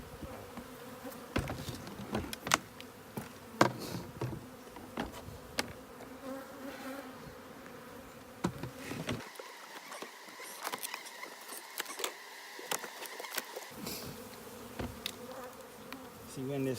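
Honeybees buzz in a dense, continuous swarm drone during removal of a hive at Mill Reef, Antigua, close and steady throughout, with scattered clicks and knocks and a brief thinning of the low rumble near the end.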